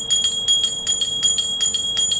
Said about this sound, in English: doing the abhishekam, you have to ring the bell.